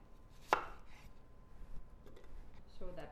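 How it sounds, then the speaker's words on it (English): A knife chops through apple pieces on a board for mulled wine, one sharp, close cut standing out early, followed by quieter kitchen handling and a brief voice near the end. "I'm just going to cut these one more time in half"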